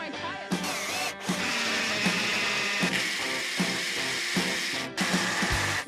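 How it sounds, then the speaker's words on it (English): A power driver sinks screws to fasten a framed wall to a post on a building site, loud and close, with rapid ratcheting whirs broken by short pauses between bursts and no talking. "We need to screw it to the post and then screw it to the footing."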